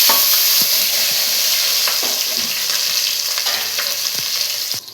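Onions drop into hot oil with whole spices, bay leaves and green chilies, and a loud, dense sizzle starts at once. It stays close and steady, with small crackles, and eases off slightly toward the end.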